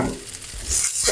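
Tortillas for cheesy beef birria tacos crisp in a hot pan, with a soft, steady sizzle that brightens and swells near the end, heard alone over about a second.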